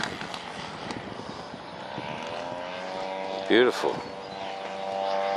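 A warbird aircraft lands with full flap under power: a steady propeller-engine drone with a droning harmonic hum runs throughout, while someone briefly speaks over it partway through.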